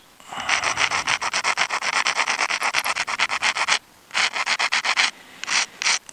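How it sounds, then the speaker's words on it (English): An abrader scrubs along the edge of a flint preform during knapping, making rapid, rhythmic gritty rasping strokes up close: a long run of strokes, a short pause, then two shorter bursts. "I'm going to put one of the abraders on it so I can get a better grip"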